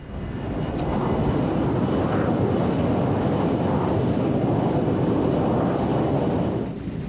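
Constant loud roar of an American Airlines airliner's engines and airflow during descent through a storm, a dense steady rumble that rises in, holds unbroken, then cuts off near the end, with no voices.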